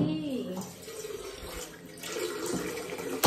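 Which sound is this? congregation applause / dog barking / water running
water running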